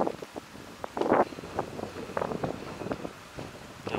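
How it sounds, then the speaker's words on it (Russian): Gusty wind buffets the microphone in uneven rushes and thumps, loud at moments and then easing, with no speech. "Ветрище сильные."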